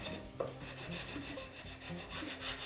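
Steady dry rubbing and scraping of a green abrasive scrubbing pad over a top coat finish on an antique wooden children's desk, continuous back-and-forth strokes, close and moderately loud.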